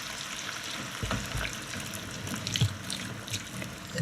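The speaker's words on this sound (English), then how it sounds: "So just let them sizzle 10 minutes at number 3." Chopped vegetables for a chicken stew sweat in a pan on a hob, giving a steady, close hissing sizzle with faint crackles and pops throughout. No one talks over it.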